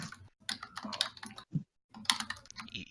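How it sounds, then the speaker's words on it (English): Bursts of keyboard typing close by, rapid clicking keystrokes broken by brief pauses. "you just hear this typing from the ether"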